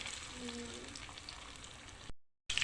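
Muharram sweets frying in hot oil, a steady soft sizzle and bubbling that runs evenly for about two seconds and then cuts off briefly to silence before resuming.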